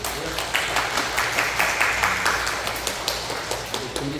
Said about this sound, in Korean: 따뜻하게 박수로 환영해 주시면 고맙겠고요